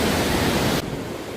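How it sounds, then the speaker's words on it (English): A waterfall in a Welsh mountain valley gives a steady, dense rushing roar, loud and close, which drops abruptly to a softer, more distant hiss partway through. "we're going to answer some questions on this waterfall behind us"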